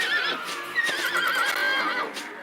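A horse neighs shrilly in a long wavering whinny while being broken in, in the video game Dragon Quest VIII, close and loud with faint hoof clatter beneath.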